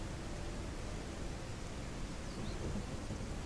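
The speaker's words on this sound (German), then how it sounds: "Sondern mal wieder Unwetter." A thunderstorm in the game Mist Survival gives a steady hiss of heavy rain with a low, continuous rumble of thunder underneath, and no voices.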